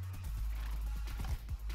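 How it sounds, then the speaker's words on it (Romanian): A horse in Minecraft gives a short whinny and snorts over a low steady hum, with a few quick hoof-like beats near the end and no talk. "ce viteză are calul ăsta"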